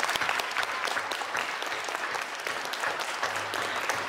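Audience applause at a middle school geography bee, steady, dense clapping from a seated crowd that holds for about four seconds without talk.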